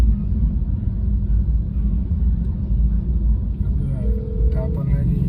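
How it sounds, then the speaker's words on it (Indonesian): A car idles and creeps through a traffic jam as a ride-hailing GoCar. A steady low engine and road rumble fills the clip, and a faint short tone sounds near the end. "jalanan macet nih"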